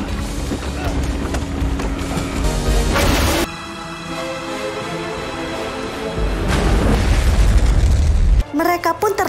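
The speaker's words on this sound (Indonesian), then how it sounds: "speedboat tersebut menabrak dermaga lalu meledak" A film scene of a speedboat crashing into a dock and exploding: heavy booms and bursts with roaring engine noise, an abrupt cut to quieter tones, then another loud blast and sharp impacts, with narration layered throughout.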